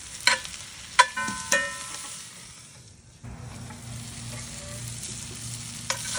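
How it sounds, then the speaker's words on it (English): Onions and mushrooms sizzle on a grill heated to over 500 degrees, a quiet steady crackle broken by a few sharp clanks and scrapes of a utensil early on, then a low hum beneath the frying. "those onions are starting to sizzle"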